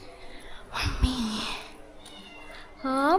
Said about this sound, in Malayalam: പൂച്ചക്കുഞ്ഞുങ്ങളുടെ കരച്ചിൽ കേൾക്കുന്നുണ്ട്.